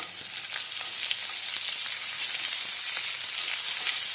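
Chopped onion frying slowly in oil in a pan over low heat while a spicy Indian suran (yam) curry is being cooked, a steady close sizzle and crackle with no talking.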